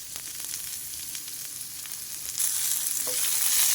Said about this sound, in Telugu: మళ్ళీ ఉల్లిపాయలు వేగిపోయినాయండి